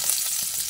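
Ground spices, cumin, ginger, turmeric and pepper, sizzling in hot oil in a pan, a brief steady bright hiss of frying without any voices.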